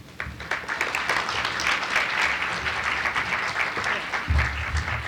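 An audience at a Women's History Month celebration at Rutgers Newark applauds, with dense, continuous clapping from a crowd filling the room at a steady level.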